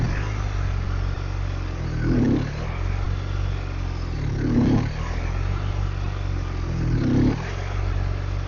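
A motorcycle engine idles steadily while the rider slips the clutch through the friction zone, with three short rev swells spaced a couple of seconds apart over a constant close-up engine rumble.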